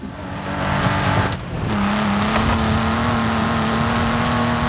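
Porsche race cars in Forza Horizon 5 drone steadily with a sustained engine tone, loud and close, briefly dipping before settling into a constant high rev held to the end.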